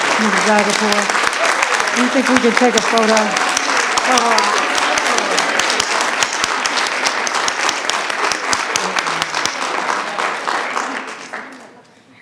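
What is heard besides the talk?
applause for the players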